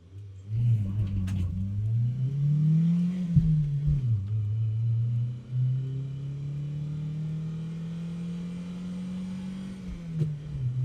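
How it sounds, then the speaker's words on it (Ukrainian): A 30-year-old Toyota two-litre car engine runs with a steady low hum, rising and falling in pitch as it revs up and eases back, fairly close. "двохлітровий двигун Toyota після 30 років безперервного пробігу"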